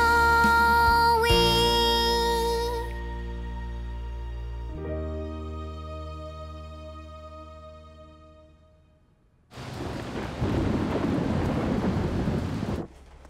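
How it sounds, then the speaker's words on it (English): In a kids' cartoon, sustained musical tones fade out, then a loud thunderclap and rumbling downpour of rain burst in for several seconds before cutting off abruptly. "Looks like a big storm is coming."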